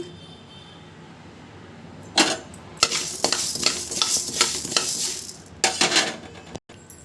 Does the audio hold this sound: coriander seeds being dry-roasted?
yes